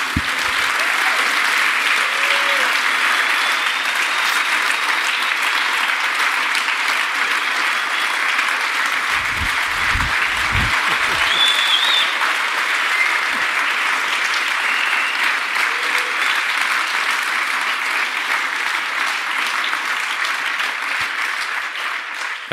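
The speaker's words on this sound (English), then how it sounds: "you deserve a massive applause from all of us here for you" A large audience applauds at the Area41 2018 security conference closing ceremony, with dense, sustained clapping and occasional cheers running unbroken and loud throughout.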